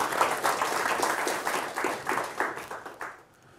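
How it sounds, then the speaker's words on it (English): An audience claps after a lecture, a dense burst of applause with faintly pulsing rhythm that fades out toward the end. "Now you can clap."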